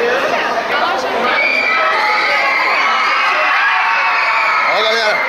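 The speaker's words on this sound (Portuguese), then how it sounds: "A galera já tá gritando" Loud, continuous shouting and cheering from a dense crowd of fans at a shopping mall in Caxias, with high excited voices and whoops filling the space throughout and chatter mixed in.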